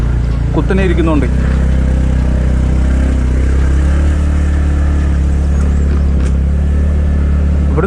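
A vehicle engine labours up a steep road on the way to Punnayar waterfall in Idukki, a low and continuous close drone under people talking inside.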